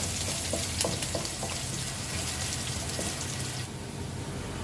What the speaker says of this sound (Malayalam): ഇപ്പോൾ വെളുത്തുള്ളിയും പച്ചമുളകും നന്നായി വഴന്ന് വന്നിട്ടുണ്ട്.